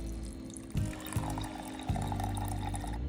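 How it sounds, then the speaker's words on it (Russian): Water pours steadily into a clay cooking pot of pearl barley, a continuous close splashing and trickling with a few soft knocks along the way. "Воды наливаем по уровню самой перловки."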